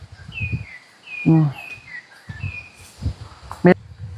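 Bird calls ring out in a forest near a pineapple patch, a series of short whistled chirps and trills repeating at moderate distance, with people speaking in low voices around them.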